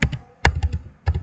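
Code is typed on a computer keyboard in short, close bursts of crisp keystrokes separated by brief pauses.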